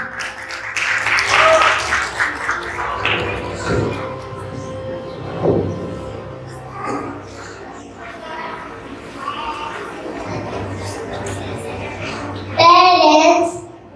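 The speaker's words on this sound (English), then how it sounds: "Let's give a big round of applause." An audience claps at a school graduation day, applause swelling early then thinning under talking and children's voices, with a brief louder burst near the end.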